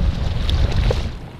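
A rubber boat motors across open water toward an island fishing spot, giving a brief, close, steady engine drone mixed with wind and water noise.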